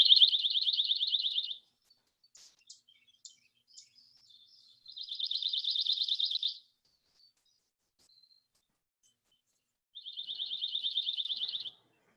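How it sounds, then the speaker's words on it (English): A small migratory warbler sings three separate trilled, buzzy phrases, each lasting about a second or two, with faint chips in between, heard clearly and alone with no voices. "It's a migratory bird, and it's a small warbler, but they tend to get up here pretty early. Here's what they sound like."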